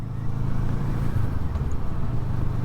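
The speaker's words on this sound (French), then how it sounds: "on se retrouve maintenant au guidon de cette Kawasaki ER6" A 2007 Kawasaki ER6N motorcycle cruising through Picardy countryside, its engine a steady low drone heard from the saddle, mixed with wind rush, even and close without revving peaks.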